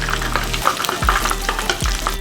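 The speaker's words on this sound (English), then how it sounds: "let's reintroduce this back to the frying pan" Pieces of orange chicken sizzle loudly in very hot oil at about 375 to 380 degrees during a second fry, crackling and bubbling steadily from close by, with clinks of stirring throughout.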